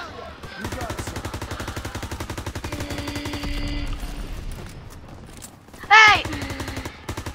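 Enemy machine gun firing in a war video game, rapid sustained bursts hammering throughout with loud impacts and a sharp spike near the end, while voices shout over the gunfire.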